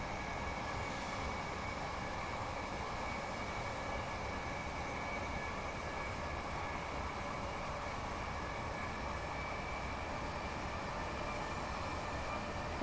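Train running in the video game Train Simulator Classic, a faint, steady mechanical rumble with a constant hum and faint tonal whine, unbroken and even throughout with no talking.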